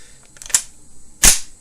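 An M95 rifle in the video game Tannenberg is dry fired, giving two sharp, short metallic clicks about three-quarters of a second apart, the second louder, with no talk over them.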